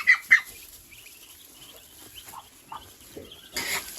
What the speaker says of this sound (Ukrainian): Дивіться, які ось каченята.